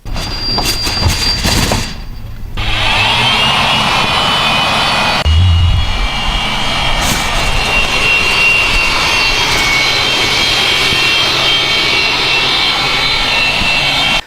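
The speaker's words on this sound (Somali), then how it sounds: "waa diyaarad nuuca dagaalka ah taasi oo loogu magac daray Somali Air Force waxaana sameeyay Axmed Cumar Sahal" Homemade Somali-built warplane, a small three-metre craft made by Axmed Cumar Sahal and shown at Cadaado, runs its engine in a loud, continuous droning roar that dips briefly early on, then holds steady with no voices.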